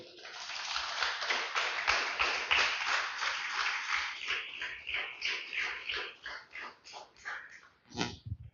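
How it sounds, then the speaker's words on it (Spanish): Loud, sustained applause from a church congregation fills the room, tapering off gradually before a final brief burst. "Denle un fuerte aplauso al Señor, aleluya"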